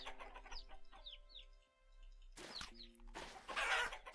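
Chickens and chicks in the survival game Vintage Story cluck and cheep in short repeated calls, with bursts of louder flapping or scuffling, fairly close and with no talking.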